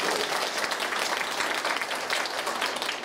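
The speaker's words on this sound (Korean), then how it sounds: "다시 한번 감사의 큰 박수 부탁드립니다" Audience applause at a forum opening ceremony on filial piety, a steady, dense wash of clapping that stays fairly loud and even for about three seconds.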